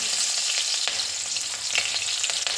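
Cumin seeds and chillies hit hot oil in a pan for a Mumbai-style vada pav potato filling, giving a steady, close, bright sizzle throughout with faint stirring clicks and no voices.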